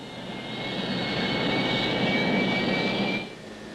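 Westland Lynx helicopter powered by Rolls-Royce BS-360 gas turbines, a steady loud turbine whine and roar that builds slightly and then drops off near the end, heard alone.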